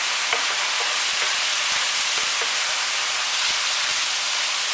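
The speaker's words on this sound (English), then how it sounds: "mix it in really well" Goulash mince is stirred in a hot frying pan, a loud, steady close-up sizzle and hiss with soft scraping from the stirring running throughout.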